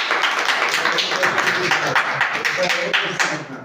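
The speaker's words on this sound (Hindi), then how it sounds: "चलिए इनके लिए एक जोरदार ताली" An audience gives applause for the speakers, a dense crowd clapping that sustains at steady loudness under a voice and thins slightly toward the end.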